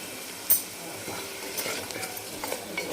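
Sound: dry spices frying: chilli, garam masala, coriander-cumin, turmeric

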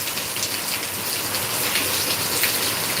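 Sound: heavy rain in Deglur

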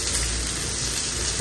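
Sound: potatoes frying in pan with turmeric, salt, red chilli

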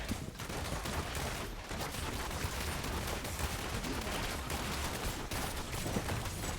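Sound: Demon Hunter shooting sounds in the video game Diablo Immortal

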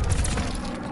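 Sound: grenade explosion in a video game

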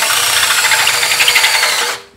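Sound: drill bit drilling through steel nut

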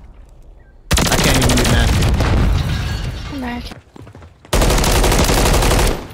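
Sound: gunfire from a new gun in a video game

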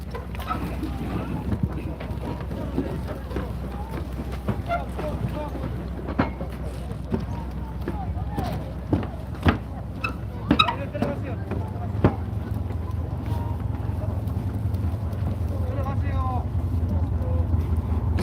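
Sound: boat engine and wind on a ferry ride leaving Manjido island

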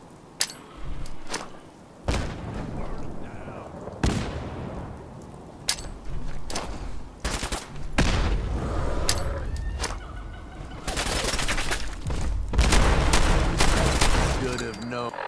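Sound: grenade explosions in Fallout 4 Nuka-World, video game

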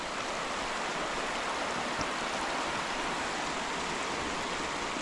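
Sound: mountain river stream flowing

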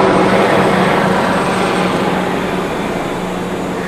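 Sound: helicopter flying over

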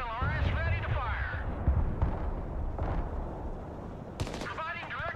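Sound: multiple rocket launcher firing in video game Broken Arrow

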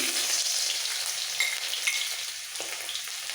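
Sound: grated garlic frying in hot oil

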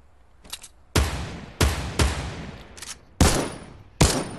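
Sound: infantry rifle gunfire in a video game

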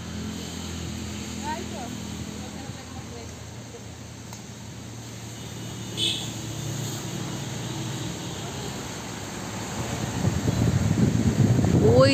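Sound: wind blowing outdoors

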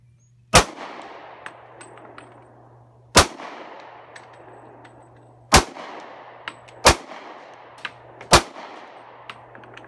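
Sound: Ruger rifle gunshots at a shooting range

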